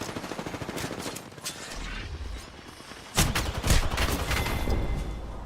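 Rapid gunfire from a rival team in a video game, dense bursts of shots that run continuously and grow louder and heavier midway through.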